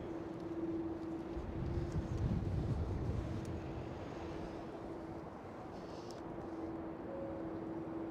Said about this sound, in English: Transavia 737 takeoff.